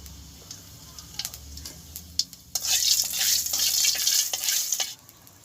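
Whole cumin seeds fry in hot oil in a village kitchen, starting with faint crackles and soft clicks before a louder burst of sizzling that holds for a couple of seconds and then dies down.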